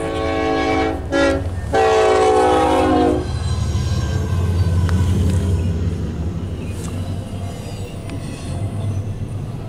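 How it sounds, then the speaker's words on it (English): A loud, long train horn blasts close by in several sustained chords, then gives way to the heavy rumble of railroad cars rolling past. "Well, that's a loud horn."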